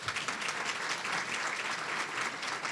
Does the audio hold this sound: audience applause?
yes